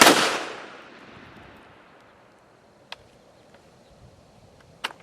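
A Walther WMP .22 Magnum pistol fires one loud, sharp shot at the start whose echo trails away, followed by two faint distant shots later, with no talking.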